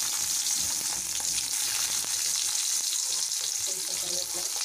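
Onions sauté in a pan with a loud, dense, continuous sizzle up close, with faint stirring clatter underneath.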